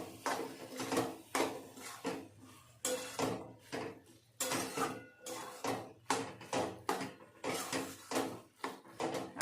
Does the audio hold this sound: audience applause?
no